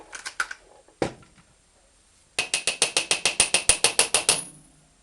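A pneumatic impact wrench loosens a suspension nut on a VAZ 2110-family car: a few short bursts, then a quick, even series of about fifteen sharp mechanical clacks, close and loud, with no talk.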